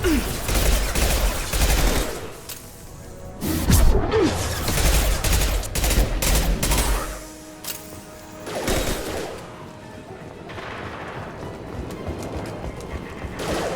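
Rapid bursts of gunfire in Mass Effect 2 crackle loudly and repeatedly in clusters, with a few brief gaps between volleys and game effects mixed in.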